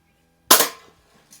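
A budget BB air gun, one of a Umarex DX17, Crosman PSM45 or Daisy 340, fires a single sharp shot at cans outdoors, followed by a faint after-tick.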